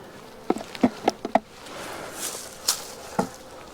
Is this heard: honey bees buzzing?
yes